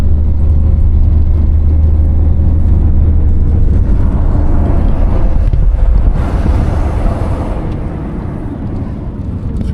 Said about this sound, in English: I'm in a collectivo, which means it's a cab with other people.